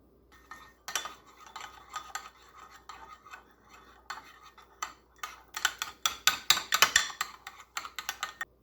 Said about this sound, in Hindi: सॉस को हम मिक्स कर लेते हैं